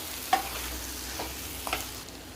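Egg panniyaram mixture being stirred in a pan, a few soft scraping strokes and light clinks of the spoon against the metal at moderate loudness, with a faint steady hiss underneath and no talking.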